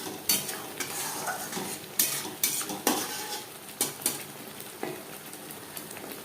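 Spices for chana masala fry in a pan while a spoon stirs them, a crackling sizzle punctuated by regular metallic scrapes and clinks against the pan, close and clear with no talking.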